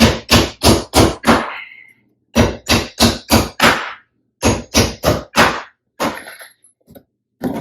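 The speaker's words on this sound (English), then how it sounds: "we're going to start on one side with our hammer and nail" A hammer drives nails into a wooden beehive body in three quick bursts of about five sharp, loud blows each, separated by short pauses, followed by a few lighter taps.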